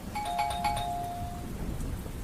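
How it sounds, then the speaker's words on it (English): A house doorbell rings once with a clear two-tone chime, moderately close, its tone sustaining and fading over about a second against a faint steady background hiss. "the doorbell rang again"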